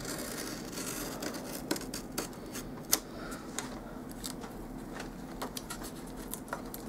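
Wet wallpaper being trimmed on a miniature building: faint, scattered snips and light scraping ticks over a quiet room hiss, with a slightly sharper click near the middle.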